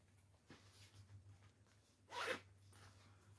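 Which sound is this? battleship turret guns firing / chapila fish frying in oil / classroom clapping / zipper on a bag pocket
zipper on a bag pocket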